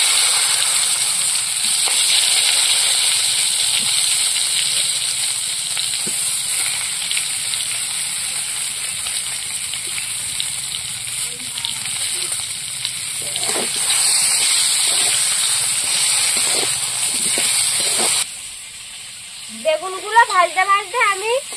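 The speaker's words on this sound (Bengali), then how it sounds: "এই ইলিশ মাছ ভাজা তেলের মধ্যেই বেগুনগুলো দিয়ে দেবো। বেগুনগুলো ভাজবো," Eggplant fries in oil left over from frying hilsa fish, a loud continuous sizzle with some stirring clatter, after which the frying cuts off and a brief rising tone follows.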